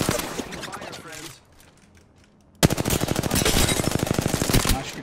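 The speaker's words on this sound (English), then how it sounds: "The enemies are shooting at me." Gunfire in the video game Apex Legends: a rapid automatic burst, a quiet pause, then a long, loud stream of fast shots, with a player's voice heard in parts.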